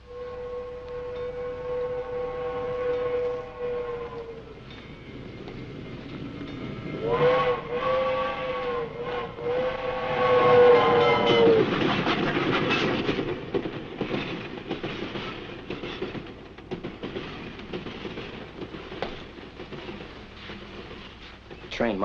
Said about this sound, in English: Train muffled it.